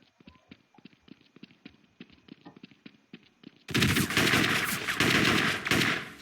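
Rapid automatic gunfire from the video game Counter-Strike: Classic Offensive, starting as a crisp run of shots and then bursting into a loud, dense stretch of firing and blasts in the second half.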